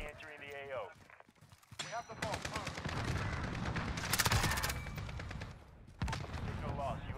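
Automatic gunfire from an MP7 in Call of Duty: Modern Warfare multiplayer, with rapid bursts cracking repeatedly over game effects, loudest in a dense volley midway, while a player talks over the action.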